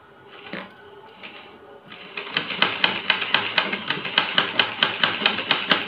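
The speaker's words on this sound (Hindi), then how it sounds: "तो मैं आपको स्टिचिंग करके दिखा देती हूँ।" A sewing machine stitches, starting with a few soft mechanical knocks and then settling into a fast, even run of sharp clattering beats, close and fairly loud, with no one talking.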